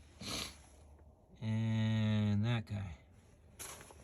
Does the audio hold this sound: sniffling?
yes